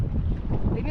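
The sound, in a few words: wind blowing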